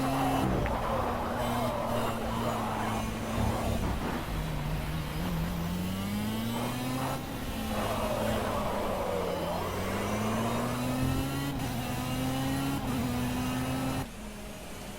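Kart engines in a racing video game whine steadily and close, pitch rising and falling with each corner and straight, continuous for the whole stretch with no talk over it.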